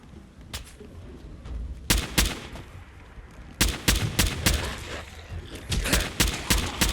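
Hip-fired gunshots in Fallout 4 come in loud, sharp bursts. A single shot is followed by clustered volleys of rapid reports that echo out between bursts, with no speech.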